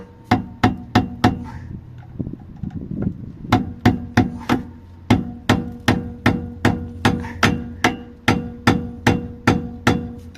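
Sharp hammer taps drive a handbrake cable into its clips on a Peugeot, coming in quick bursts of three or four blows, then a pause, then a long steady run of close, ringing metallic strikes.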